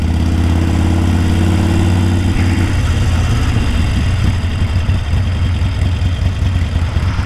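A Harley-Davidson Sportster Roadster motorcycle engine rumbles loud and close with a deep, throbbing beat while the bike is ridden on rural back roads in São Paulo state, a rising roar and wind joining partway through.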